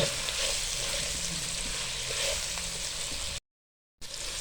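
Vegetables for chicken chow mein sizzle loudly in a hot pan, a dense continuous frying hiss that cuts off abruptly for a moment near the end before resuming.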